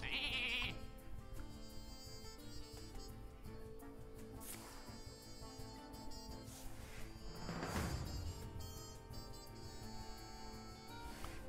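A Polymorph in the Hearthstone video game turns a minion into a sheep, which lets out bleats over steady background game music, followed by a brief crash of game effects.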